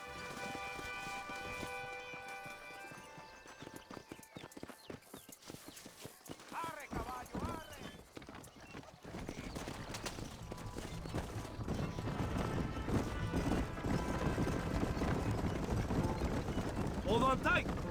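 Horse hooves clip-clopping in the video game Red Dead Redemption, with a wagon and Mexican army riders nearby: rhythmic hoofbeats that grow louder and busier in the second half, mixed with game music and occasional voices.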